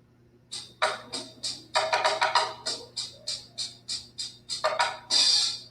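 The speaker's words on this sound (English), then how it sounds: "Bongos and congas are percussion instruments played with the hands and fingers." Bongos and congas are struck with the hands and fingers in a lively stream of short, bright slaps and taps, evenly paced and close, over a faint steady hum.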